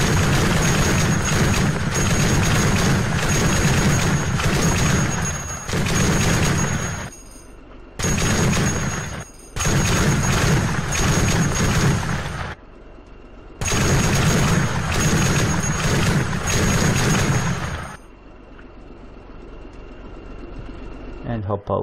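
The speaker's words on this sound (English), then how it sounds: "Now let's destroy the Humvee." Video-game Humvee being blown apart, with repeated loud explosive bursts and rumbling blasts in several long stretches separated by brief lulls, close and dominant.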